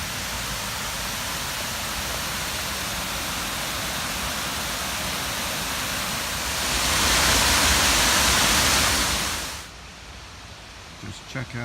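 The River Wye rushes steadily along a rocky valley on the Monsal Trail near Millers Dale, a broad continuous wash that swells louder for a few seconds before dropping away to quieter background.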